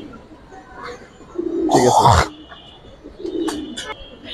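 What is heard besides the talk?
Giribaz pigeons cooing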